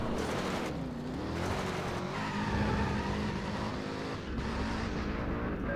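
A Corvette in the video game Driver San Francisco accelerates hard, its engine note climbing and shifting through gears amid tire squeal, loud and continuous throughout.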